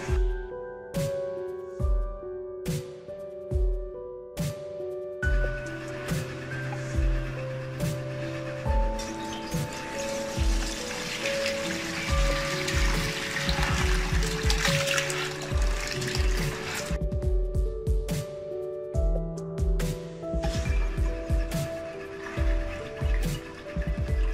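Whey drains from homemade paneer curds strained through cotton cloth in a perforated bowl, a steady splashing pour that swells in the middle, heard under background music with thumping beats.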